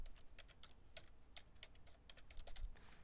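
Quick, light keystrokes tap on a computer keyboard in irregular bursts, close and fairly quiet, with no talking, as details are entered.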